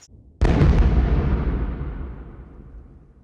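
A single heavy artillery shell explosion booms out suddenly after a short quiet near a gun, its deep rumble slowly decaying over several seconds.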